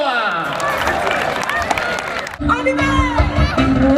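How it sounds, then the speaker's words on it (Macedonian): A crowd gives a dense burst of applause and cheering at an Ilinden evening concert in Zletovo, lasting a couple of seconds before a song with music starts up. "ќе ве замолам со најсилен аплауз да ја поздравиме"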